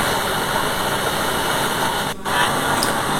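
A travel coach overtaking in the fast lane of a highway, heard as a steady engine drone and road rumble with a brief dip as it passes, from inside a vehicle.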